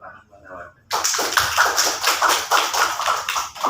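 An audience breaks into applause at a government office event, a sudden burst of dense clapping after a brief quiet voice, continuing steadily and fairly close.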